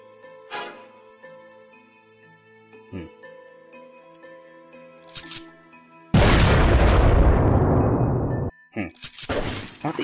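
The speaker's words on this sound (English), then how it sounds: "I haven't tried out the bombs yet." Bombs explode in the Dragon Fin Soup video game, a loud blast with shattering debris that sustains for about two seconds, followed by a second burst, after scattered soft game effects.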